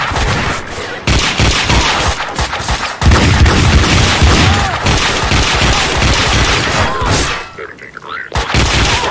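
Rapid bursts of video game gunfire from the game Creatures crackle loudly and almost continuously, with short pauses between volleys.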